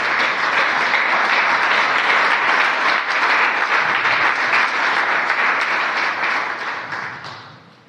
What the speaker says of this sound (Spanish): Denle un aplauso grande a Jesús.